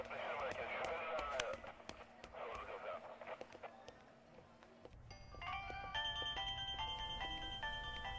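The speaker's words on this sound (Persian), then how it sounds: "خدایا همین زنگ تلفن نمیرسید" A telephone rings with a bright, repeating electronic tone in a home setting, starting partway through and continuing steadily, following a stretch of background music and talk.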